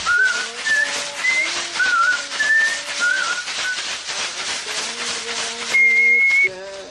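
A shaman in the Amazon whistles a melodic tune of short, wavering notes and longer held tones during an ayahuasca healing ceremony, close and clear with soft rustling behind it.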